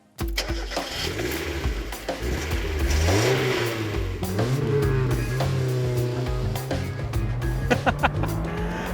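A modified Mark 1 Mazda MX-5 1.6 fires up and pulls away, its engine revving through rising and falling pitches as it accelerates, loud and close, with shifts and a burst of throttle near the end.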